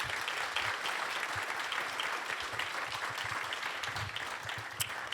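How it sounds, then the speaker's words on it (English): An audience at a tech conference panel on AI gives a sustained round of applause, dense and even throughout with no talking. "if you would please give our panelists a big round of applause"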